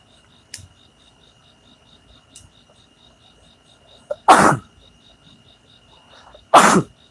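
Two sharp sneezes burst out a couple of seconds apart over a quiet background of steady cricket chirping.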